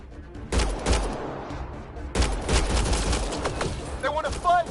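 Gunfire in Mass Effect: two heavy bursts of rapid shots, close and loud, each trailing into scattered fire, with voices talking over the shooting.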